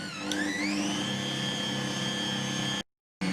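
Electric mixer beating sponge cake batter with caster sugar, a steady whirring motor drone with rising pitch at the start, running continuously and loud, then cut off abruptly near the end before resuming briefly.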